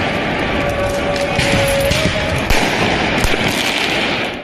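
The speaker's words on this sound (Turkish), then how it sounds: "Rennes kentinde de yüzleri maskeli bir grup polislere havai fişek fırlattı." Fireworks hurled at police by masked protesters during unrest in Rennes, France: a dense, loud, continuous barrage of crackling and popping bursts, with sharper bangs near the middle and end.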